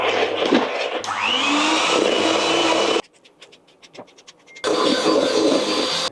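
Electric mixer whirs loudly as it beats a powdered sugar mixture for a dessert pizza topping, running steadily for about three seconds, dropping to quiet scraping and clinks, then starting up again loud and continuous.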